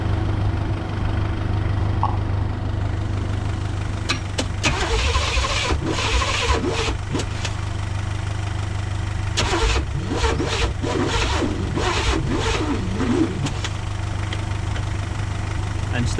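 1985 Pontiac Trans Am 5.7 V8 that has sat unused for seven years, its starter cranking slowly in repeated bursts after long stretches of low steady hum, each attempt a rough, labored churn without the engine catching.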